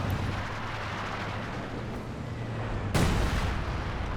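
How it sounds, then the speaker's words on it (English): Howitzer artillery in Company of Heroes 2, a sharp loud firing blast near the three-second mark over a steady low battle rumble, with no voices. "Got a howitzer out now"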